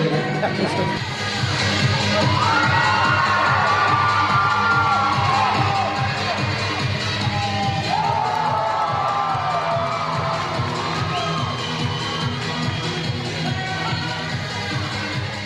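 Loud crowd at a karate championship cheering and whooping, with girls' high-pitched screams rising above it during a theatrical masters kata performance, a continuous roar that swells and dips over the whole stretch.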